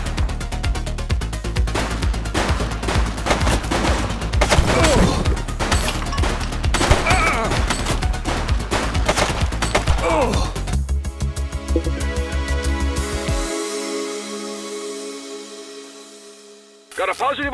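Rapid bursts of gunfire from a police shootout in the true-crime video game The Precincts, dense and loud over game sound for about ten seconds, then fading into music and ambience.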